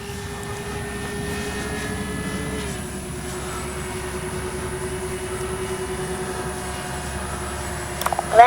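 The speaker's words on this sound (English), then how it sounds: "A little touch and go there." An RC B-25J warbird model airplane performs a touch and go, its engines a steady distant drone with a sustained tone that shifts slightly partway through, rising a little at the very end.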